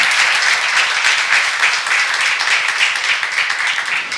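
A church congregation claps steadily together, loud and close, with individual hand claps audible in a fairly regular rhythm throughout.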